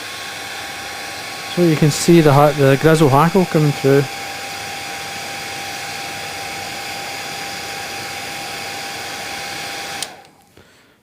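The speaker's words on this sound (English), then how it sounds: "I'm going to just encourage that by using the hairdryer." A hairdryer blows on a fishing fly being tied, with a steady, loud whirring hiss for about ten seconds while someone speaks briefly over it; then it switches off.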